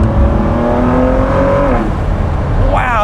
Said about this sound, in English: Oh my gosh, that sounds amazing.